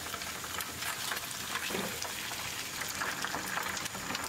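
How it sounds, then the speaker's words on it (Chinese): A whole fish, turned to its other side, deep-fries in hot oil for sweet and sour fish, with a steady bubbling crackle and small pops throughout, close and even in level. "一面炸好后，再翻过来炸另一面"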